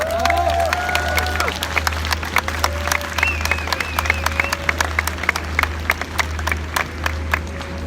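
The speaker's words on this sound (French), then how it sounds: "je demande juste qu'on les applaudisse parce que c'est très bien ce qu'elles font" An outdoor crowd at a rally against police violence applauds sign language interpreters, with scattered, uneven claps and some cheering heard at moderate distance over a steady low hum and background crowd noise.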